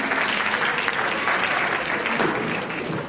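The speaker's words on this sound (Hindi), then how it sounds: "इन सभी के लिए जोरदार ताली" An indoor audience at an event gives a burst of dense, loud clapping that holds steady for about three seconds.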